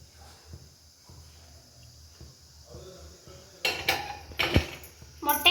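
A frying pan with reused oil is set on a home stove for tempering. It stays fairly quiet at first, then close metallic clanks and scrapes of the pan being handled come in bursts toward the end.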